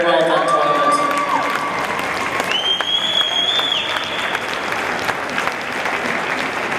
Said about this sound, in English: a big round of applause to all the teams on a very well done tournament.